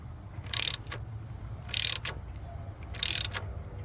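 Ratchet wrench snugging an engine coolant temperature sensor on a 2015 GMC Yukon 5.3L V8, three short close clicking bursts separated by pauses.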